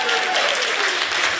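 Comedy club audience applauding at a stand-up crowd-work show, a dense, steady burst of many hands clapping up close, filling the short moment without talk.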